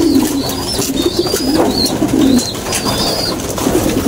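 A pigeon coos in low, soft repeated phrases in a breeding loft for racing pigeons, with chirps from other birds around it and steady ambient noise behind.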